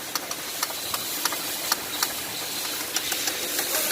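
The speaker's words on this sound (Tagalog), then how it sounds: "Katok ang makina." A 2.5 MPI car engine idles with a rough hum, overlaid by a steady, regular tapping knock from inside the engine, heard up close with no talking.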